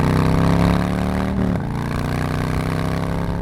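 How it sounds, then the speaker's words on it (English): A Harley-Davidson Low Rider S with its 114 V-twin engine throbs loudly and close. Its deep, steady note swells, dips briefly midway, then settles back into a strong, even rumble. "That weight disappears the moment this V-twin flexes its muscle just a little bit."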